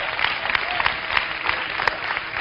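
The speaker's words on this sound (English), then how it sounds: "We should clap right there." An audience applauds at a leadership talk, with steady, dense clapping filling the room at an even level throughout.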